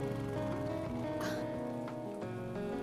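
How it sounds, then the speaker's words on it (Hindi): Steady rain patters on surfaces outdoors near a bus stop, a dense, continuous hiss with a few brief louder splashes and knocks, fairly faint and even throughout. "बारिश हो रही है"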